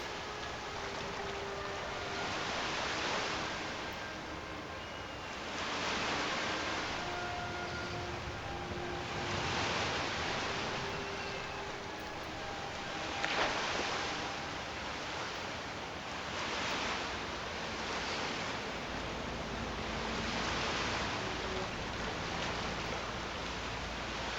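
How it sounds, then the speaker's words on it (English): Ocean waves in Skyrim roll in and wash out in slow, regular surges, a broad steady roar of surf with faint tonal game sounds beneath. "I love these waves. They're cool."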